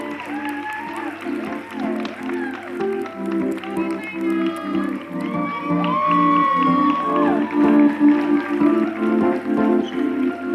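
An audience at a Miss Grand USA pageant finals applauds and cheers an award, a continuous wash of clapping and voices rising louder in the latter half, with scattered shouts and talk mixed in.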